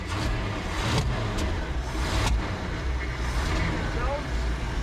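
A box truck engine idles steadily after a carburetor swap, a continuous low rumble heard up close with a few brief louder surges and people talking over it.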